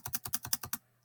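Seven quick, evenly spaced key clicks from a computer keyboard, close and fairly quiet, followed by silence.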